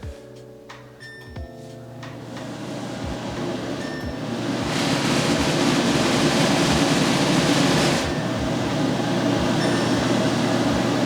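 A custom kitchen range hood in a newly finished house is switched on with a tap. A few soft clicks and tones are followed by the fan's airy whoosh, which swells to a loud, steady rush and holds there.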